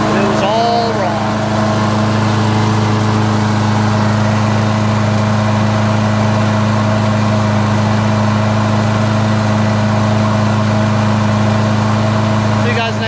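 A Craftsman 6.75 HP self-propelled lawn mower engine runs steadily close by at a constant loud drone, with a brief rev at the start and a voice talking faintly over it.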